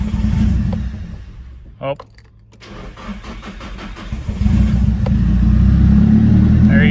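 A vehicle engine cranks, catches and settles into a steady idle before revving louder, heard up close, with a brief spoken exclamation over the start-up.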